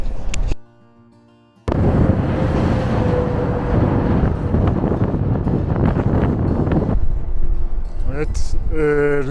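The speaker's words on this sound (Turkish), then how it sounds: "size rüzgarın şiddetini biraz da sesle anlatmak istiyorum" Strong wind in Iran roars and buffets loudly and continuously, with a brief drop to near silence early on before the gusting returns at full force.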